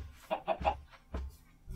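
Chickens in the Minecraft modpack Sky Factory 3 give several short, faint clucks in quick succession, close together and then a brief pause before another cluck.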